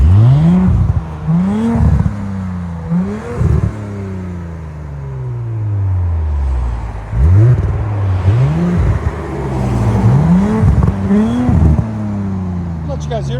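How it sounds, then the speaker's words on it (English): A 2018 Audi S5 with a 3.0L turbocharged V6 and resonator delete revs repeatedly outside, sharp rising blips and falling decays in a steady rhythm, loud and close, with voices talking over parts of it. "Audi S5 mid-resonator delete."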